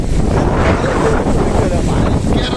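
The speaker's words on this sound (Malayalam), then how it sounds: "കടല് വൻ പ്രക്ഷുബ്ധമായിട്ട് മക്കളെ രസമാണ്" Rough, churning sea and strong gusting wind on the Kerala coast during a storm, a loud continuous broadband roar with wind buffeting the microphone throughout, no clear breaks or individual wave crashes.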